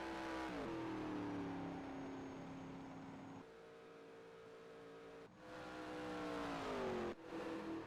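Race cars roar past at Daytona during an Xfinity 300 race, engines droning and shifting pitch as they go by, with a sharp drop and surge in volume near the end.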